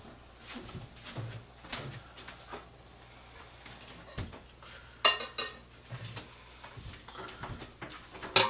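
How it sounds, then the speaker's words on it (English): Stirring lemon juice into a mixture in a bowl: soft clinks and scrapes of a spoon against the dish, irregular and close, with a few sharper knocks and light handling noises. "I have just added the lemon juice and stirred it in"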